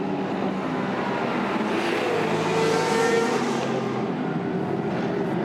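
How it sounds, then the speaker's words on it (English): GT race cars of the Blancpain GT Sports Club shuffle into position at Misano, a steady broad engine drone from several cars at moderate distance, swelling slightly midway and holding without pause. "There we can see the cars just shuffling into their positions"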